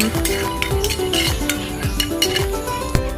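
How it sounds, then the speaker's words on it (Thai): Chilies, shallots and garlic dry-roasting in a pan while being stirred, with steady scraping and clinking of a utensil against metal in a busy, continuous rhythm, close and fairly loud. "คั่วไปเรื่อยๆนะคะจนพริกของเรากับ หอมแดงกับกระเทียมนะคะ จะสุกดีนะคะ"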